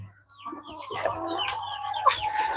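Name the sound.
hen clucking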